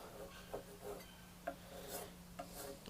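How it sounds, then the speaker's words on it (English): Sandpaper rasping across the waxed end grain of a wooden sleeper, a soft close rubbing with a few brief scratchy bursts at a steady hand pace. "I'll sand that off"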